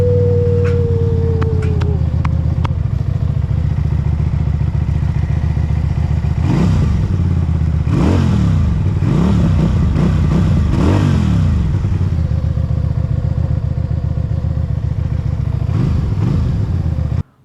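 A 2022 QJMotor SRV250 cruiser with a 250cc engine runs steadily throughout, with a few sharp rev blips in the middle and a low, even rumble the rest of the time, heard close up with no talking.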